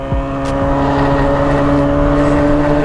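A motorcycle engine revs steadily and loudly, with a droning, harmonic tone that holds at a fairly constant pitch throughout.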